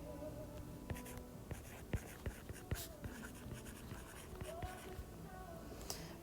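A pen or pencil scratches out a surface area formula on paper, soft close strokes and taps in an irregular rhythm at very low volume, with faint breathy whispering beneath.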